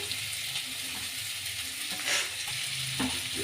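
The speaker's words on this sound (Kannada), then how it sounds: "ಫ್ರೈ ಮಾಡ್ಕೊಳ್ಳೋಣ ಈಗ ಕರ್ಬೇವಿನ ಸೊಪ್ಪು ಸಣ್ಣಗೆ ಹೆಚ್ಕೊಂಡಂಥ ಈರುಳ್ಳಿ" Curry leaves and finely chopped onion frying with chana dal, a continuous close sizzle broken by occasional stirring scrapes and light clicks, no voice.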